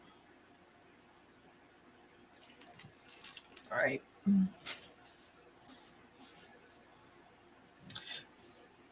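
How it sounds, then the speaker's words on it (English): Spray paint hissing onto a craft birdhouse in a series of short bursts of varying length, close to the microphone, with a brief spoken remark in between. "So I think I just have to spray it."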